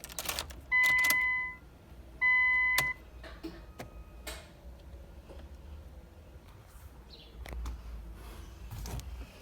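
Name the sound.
turning the ignition key of a Skyline car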